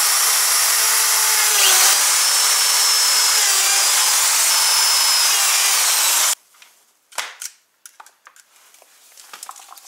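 A power drill whines steadily for several seconds boring into a Ski-Doo Ripsaw snowmobile track, then stops abruptly, followed by a few scattered knocks and rustling handling noises.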